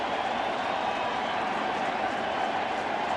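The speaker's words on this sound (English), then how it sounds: "Crowd not quiet now" A packed baseball stadium crowd at an NLCS playoff game between the Giants and Cardinals roars and applauds in a continuous, steady wash of cheering, loud and sustained, with no single voice standing out.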